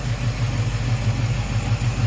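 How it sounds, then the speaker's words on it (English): A 1934 Chevy hot rod engine idles close by, a loud, low, lumpy rumble with an even pulsing beat that holds steady for a couple of seconds with no talking. "we've got that sitting there idling again"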